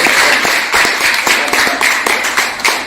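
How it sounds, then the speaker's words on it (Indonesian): A room of people at a health talk claps along in a dense, loud, fairly rhythmic burst of applause lasting a few seconds. "Boleh tepuk tangan dong."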